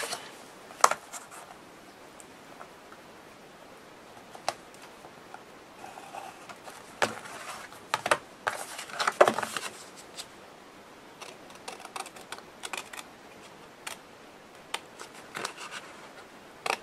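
Scissors snipping paper shapes for an envelope mini album, with short crisp cuts and rustling paper coming in irregular bursts, close and fairly quiet, with no talking.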